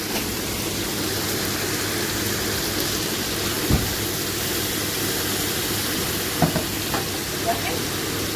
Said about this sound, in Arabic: لا بيتحمر